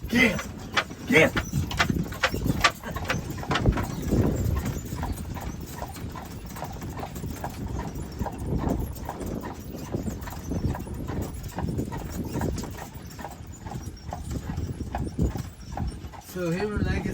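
Horse hooves clip-clop steadily and close by on pavement in Amish country, Lancaster County, Pennsylvania, with someone talking over the rhythmic clopping.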